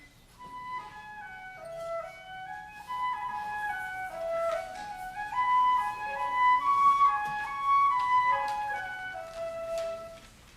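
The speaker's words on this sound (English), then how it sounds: "Grieg decided he would write first this melody that would represent spring, which is going to be played by the flute" A solo flute plays the gentle, rising spring melody from Grieg's Morning, clear sustained notes stepping up and down in a flowing phrase, quiet and alone with no talking.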